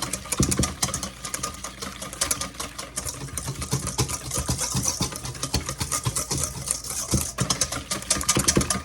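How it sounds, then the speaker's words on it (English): Quick, steady clicking and tapping of a utensil stirring sugar and cinnamon into egg in a bowl for apple fritters, a close continuous rhythm with no talk. "Now, we're going to stir that up with our egg."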